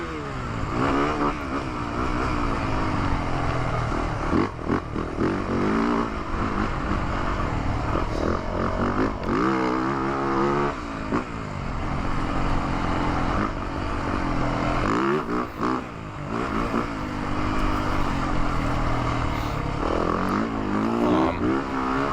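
A 2024 Yamaha motocross bike engine while riding, revving up and down steadily with repeated rising and falling pitch sweeps. The engine note is loud and close and runs almost without a break.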